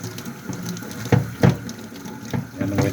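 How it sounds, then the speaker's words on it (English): Pellet reactor screen rinsed under a sink tap, running water splashing with a few louder bursts as the screen is moved through the stream, close and fairly loud. "Let me just rinse out that screen."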